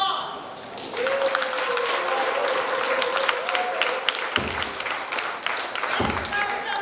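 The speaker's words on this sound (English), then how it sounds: "let's hear a fan applause" Applause from guests at Mary's 90th birthday celebration fills the room steadily, with a faint voice or whistle-like tone running through it and two brief dips near the end.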